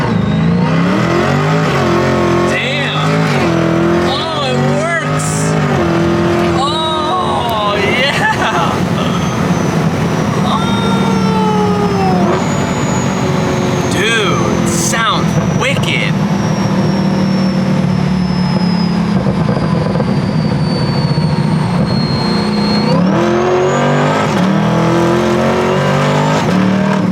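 Supercharged C8 Corvette with a Magnaflow exhaust launching hard, engine roaring loudly up through the gears with sharp rising revs and shift breaks, heard from inside the car with excited voices over the top.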